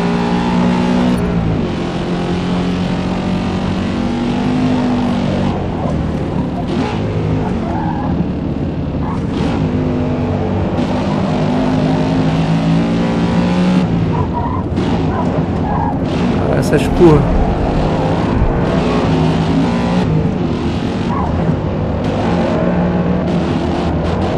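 A tall car races around a twisty track in Forza Motorsport, its engine revving and droning loudly with shifting pitch and tire skids, while someone talks over the game sound throughout.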